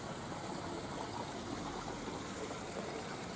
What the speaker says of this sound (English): This little water feature.